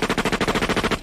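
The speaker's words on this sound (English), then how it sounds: "We'll ease up on the gunshots" Rapid burst of about a dozen evenly spaced gunshots played as a sound effect on a radio show, loud and close like machine-gun fire, ending abruptly with no talk over it.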